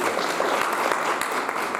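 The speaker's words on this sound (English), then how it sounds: "Let's give them a round of applause." A classroom audience claps briefly for two student helpers at an agricultural soil health presentation, a short burst of dense clapping throughout.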